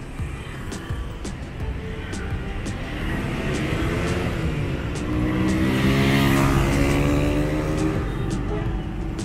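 Dense traffic of private cars, coaches and family motorbikes on National Highway 20 near a mountain pass, a continuous loud engine roar with vehicles rumbling past, while a voice talks over it.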